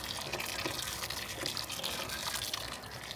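Water pours steadily into a pot of nilaga being cooked, a soft continuous gushing and splashing with faint drips, fairly quiet and heard alone.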